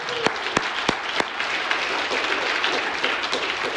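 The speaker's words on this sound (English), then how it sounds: "Can we give him a round of applause real quick" A crowd applauds steadily, with dense clapping and a few louder individual claps standing out near the start.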